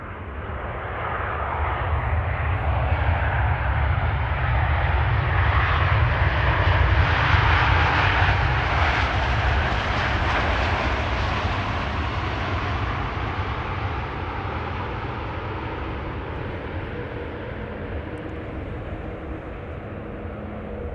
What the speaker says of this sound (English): Next after that is going to be a Transavia, arriving from Innsbruck.